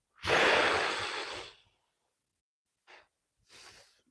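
A long, forceful exhale during a guided breathing exercise, loud and close, followed by two shorter, softer breaths after a pause.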